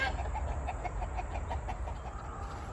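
Backyard chickens near the coop clucking in agitation while hawks fly overhead, a steady stream of repeated anxious clucks at moderate distance.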